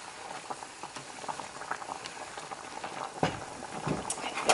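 Pig feet and tails boiling in a pot for Southern soul food, a steady close bubbling and popping that runs through the whole stretch, with a few sharper liquid pops near the end.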